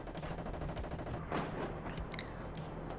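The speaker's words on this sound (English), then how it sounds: "Machine gun continues to fire." A machine gun fires in the real-time strategy game WARNO, a rapid continuous rattle of shots heard at a distance, with a slightly heavier burst in the middle.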